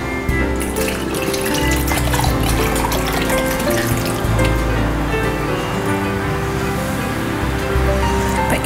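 Beetroot jelly pudding mixture being poured into a dish; a continuous liquid pour with splashing and gurgling, close and steady throughout, no voices.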